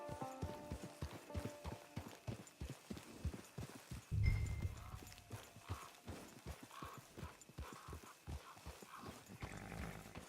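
Horse hooves clip-clop steadily in the Western video game Red Dead Online, a close, regular rhythm of many quick strikes running throughout with a brief louder thump partway, no talk over it.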